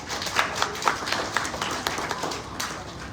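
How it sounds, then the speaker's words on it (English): Applause at a book launch event, scattered clapping from a modest audience, moderately faint, with individual claps standing out over the steady patter. "Please welcome him with a huge round of applause."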